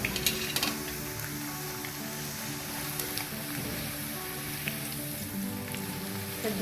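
Raw banana wafers frying in hot oil, a dense continuous sizzle with fine crackling close by, steady and unbroken with a few sharper pops near the start and no talk.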